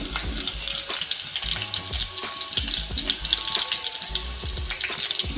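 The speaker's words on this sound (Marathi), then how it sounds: "लसूण थोडंसं परतून घेऊया।" Garlic sizzling in hot oil in a heated pot, a steady loud crackle with occasional stirring knocks of a spoon against the pot, no voices.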